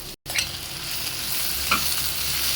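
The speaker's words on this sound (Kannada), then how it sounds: "ಇದನ್ನು ಸಹಿತ ಒಂದು 3 ಸೆಕೆಂಡ್ ಕಾಲ ಚೆನ್ನಾಗಿ ಫ್ರೈ ಮಾಡ್ಕೊಂಡಿದ್ದೀನಿ." Potatoes tossed into a pan with turmeric and spices, a steady close sizzle with scraping stir strokes after a brief cut near the start.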